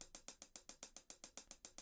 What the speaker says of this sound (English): we have the hi-hats going.